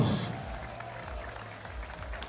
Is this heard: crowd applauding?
yes